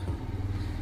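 An old motorcycle engine, many years in use but with low mileage, idles with a steady low rumble and faint mechanical clatter from inside, close and continuous.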